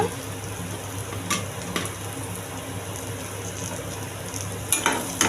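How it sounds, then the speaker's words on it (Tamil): Tamarind sautés in a pan for a village-style vadagam thuvaiyal, giving a steady close sizzle broken by a few sharp stirring scrapes, with no voices. "கொஞ்சோண்டு புளி புளி போட்டு வதக்கிக்கோங்க"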